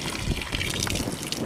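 Water gushes steadily from a village tap serving rural settlements near Zahedan in Sistan and Baluchestan, a close, continuous splashing rush with a bright hiss.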